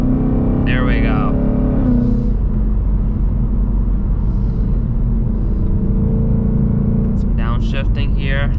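A loud 2024 Ford Mustang GT engine heard from inside the cabin, a deep steady rumble with rising and falling revs as it pulls, with someone talking over it at the start and near the end.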